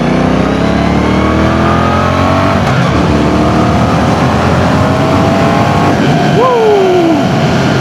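A Brixton Cromwell 1200 motorcycle on an open road accelerates through its gears, the engine note climbing steadily and dropping at each shift, loud and close over rushing wind.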